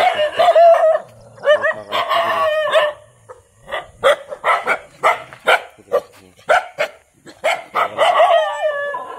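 Village dogs in the morning bark and howl aggressively during an attack, with loud, close, rapid yaps and yips in quick irregular bursts that fill the scene almost continuously.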